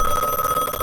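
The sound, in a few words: telephone ringing in a video game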